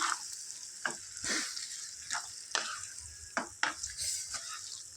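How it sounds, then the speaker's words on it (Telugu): About three-quarters of a kilo of chicken fries in a pan for a Telangana-style curry. A soft sizzle runs underneath as repeated bursts of stirring, roughly one every half second to second, rise and fade, all quiet and close. "వీటిని చక్కగా గోల్డెన్ బ్రౌన్ కలర్ వచ్చే వరకు చికెన్ను ఫ్రై చేసుకుందాం"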